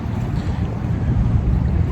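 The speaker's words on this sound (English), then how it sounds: "Hopefully you can hear me through the wind." Strong wind roars steadily against the microphone, a dense low rumble with constant gusting buffets and no voices.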